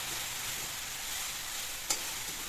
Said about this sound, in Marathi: तळापासून आपण हलवून घेऊ भाजी.